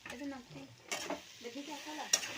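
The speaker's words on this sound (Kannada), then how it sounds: "ಇಲ್ಲೊಂದು ಒಗ್ಗರಣೆ ಹಾಕ್ತೇನೆ ರೀ" Tempering spices crackle and sizzle in hot oil for a legume curry beneath a person's talking, with a sharp stir or clatter in the middle and another near the end.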